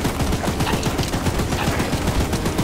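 A placed machine gun in Choo-Choo Charles fires a rapid, steady stream of shots, loud and close, with each burst blending into a continuous rattling rhythm.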